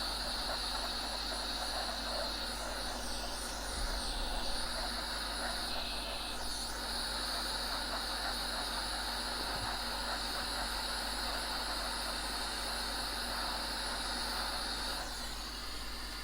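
A hot air rework station blows steadily onto the centre chip of a retro XP gaming PC motherboard, a constant close hiss with a faint hum underneath and no talk.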